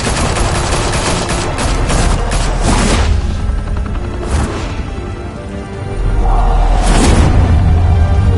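Heavy gunfire from Batman: The Telltale Series rattles in loud, dense bursts with booming impacts, easing briefly in the middle before another sharp volley and rumbling tail.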